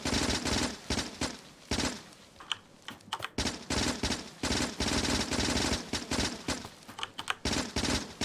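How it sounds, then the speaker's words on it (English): Rapid bursts of automatic gunfire in Factorio as trees are shot down, loud and close, in repeated strings of quick clicky shots broken by short pauses. "Ever in doubt, just shoot all the trees."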